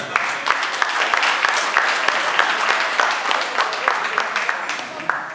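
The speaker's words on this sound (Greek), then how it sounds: "γι' αυτό τους αξίζει ένα θερμό χειροκρότημα" Warm applause from a crowd at a village feast day in Perivlepto, Drama, on Saint Demetrius' day, a steady dense patter of many hands with some louder individual claps, nearby and sustained, with voices mixed faintly underneath.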